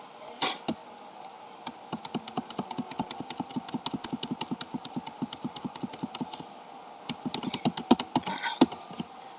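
Fast, steady typing on a computer keyboard, close and clear, with dense runs of key clicks, a short pause, then more bursts and a few heavier keystrokes, over a low hum.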